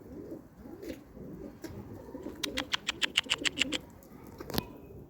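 A rapid series of about ten bright pigeon coos or calls rises close by over rustling outdoor background, followed by a single sharp sound, during a hunt for turtle doves.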